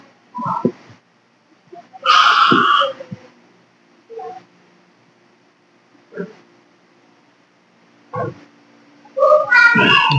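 A cat meows several times in short, separate calls spaced across a quiet room, some cries brief and others longer and louder, close to the listener.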